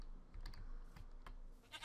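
A few faint, brief goat bleats from the game Minecraft, quiet and soft, mixed with light computer keyboard clicking.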